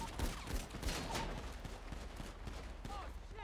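Gunfire from a roleplay shootout in the game GTA, set during an ambush of a caravan in Paleto: dense, rapid crackling shots and bursts spread across the moment, with voices talking over the fire throughout.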